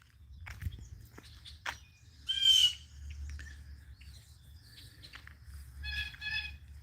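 Birds call outdoors by a pond, giving scattered short chirps and one louder squawk at moderate distance, with light footsteps or rustling and a low background rumble in between.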